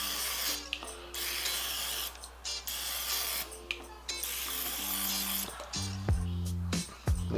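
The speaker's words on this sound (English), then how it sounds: "I'm gonna spray the tops of these just a little." Cooking spray hisses in short bursts over the tops of chicken thighs in an Emeril Lagasse Power Air Fryer 360, with several brief sprays broken by clicks and small mechanical knocks, close up and without talk.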